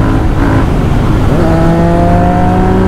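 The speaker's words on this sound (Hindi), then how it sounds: "बहुत स्मूथली बाइक जा रही है और 120-130 में चला रहा हूँ" Royal Enfield Continental GT 650 motorcycle fitted with a Barrel Atom exhaust, ridden at speed on the road, its loud, steady engine drone rising in pitch as it accelerates, with rushing wind noise throughout.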